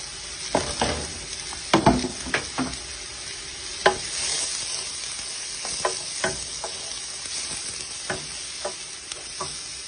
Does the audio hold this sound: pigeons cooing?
no